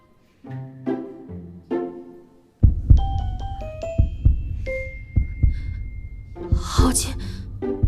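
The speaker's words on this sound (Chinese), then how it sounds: "为何明明解开了狐媚香，我心跳还是如此快？" A heartbeat sound effect in a Chinese fantasy romance drama series thumps in a steady run of deep, close pulses, layered with bright chiming music tones after a brief breathy opening.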